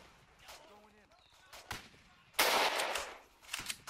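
Gunfire in the World War II shooter game Easy Red, with a few single shots early and then a loud burst of rapid fire around the middle. Someone talks intermittently.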